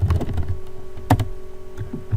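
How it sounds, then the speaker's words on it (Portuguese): Close, brisk clatter of keys on a computer keyboard, a quick run of taps with one sharper keystroke midway, no voices over it. "vou digitar aqui Leonardo novamente"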